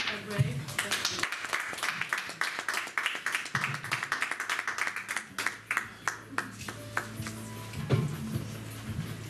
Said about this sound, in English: Shall we please, with an applause, welcome Annika Gray?